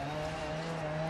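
Tires of a Ford Sierra Cosworth RS500 locking under hard braking in Dirt Rally, a brief sustained skid squeal with a steady tonal whine under engine noise, no voices.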